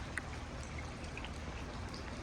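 Rain pouring down during flooding, soaking nearby walls, with a continuous soft wash of water and scattered light drips throughout, fairly quiet and steady.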